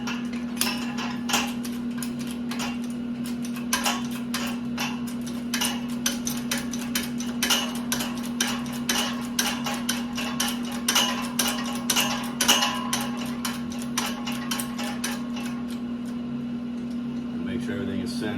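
Metallic clinks and taps ring out irregularly as parts of an AMC 20 axle from a 1985 Jeep CJ7 are pressed together in a workshop, over a steady electrical hum.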